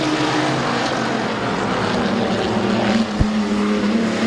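Race cars roaring around the oval at Midvale Speedway, a dense continuous engine drone from several cars at once, loud and steady with a brief bump near the end, no voices heard.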